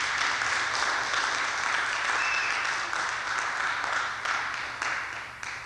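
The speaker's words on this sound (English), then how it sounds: "Give them another round of applause." Audience at a program on African spirituality applauds in a long, steady wash of many hands clapping, moderately quiet and slowly tapering off toward the end, with no talking over it.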